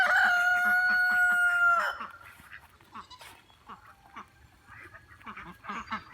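A rooster crows loudly and close by in one long sustained call, followed by softer clucking and scattered calls from a group of chickens.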